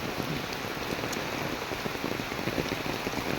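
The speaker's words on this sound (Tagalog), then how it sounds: "lakas ng ulan" Heavy typhoon rain pours steadily, a dense continuous hiss of drops drumming on a surface with no let-up.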